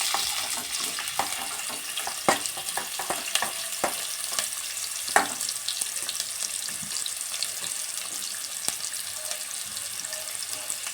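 Sliced onions frying in hot oil with cloves and cinnamon for a Kannada-style thondekai (ivy gourd) gravy, giving a steady bright sizzle with scattered crackles and a few clinks of stirring, close and alone.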